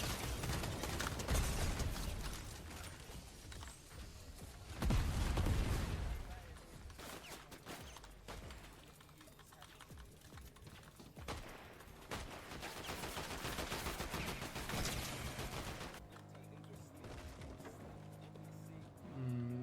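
Gunfire in a video game aimed at the player, rapid bursts and scattered shots over a loud mechanical game soundtrack, with someone talking in between.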